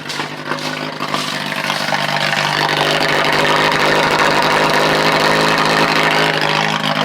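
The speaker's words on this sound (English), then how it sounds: "Here's an exhaust." A 1983 Ford Ranger idling just after a cold start, heard at the exhaust with no catalytic converter: a loud, steady, close engine rumble with a dense hissing exhaust note that holds evenly throughout.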